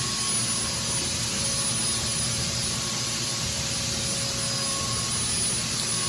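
A decontamination fogging machine sprays Dahlgren chemical during a Covid decon job, producing a loud, constant roaring hiss that holds unchanged from start to finish.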